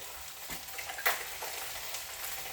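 Garlic and onion frying in a hot pan for a beef stew, a steady close sizzle broken by scraping stirs from a large spoon, one sharper clatter near the middle.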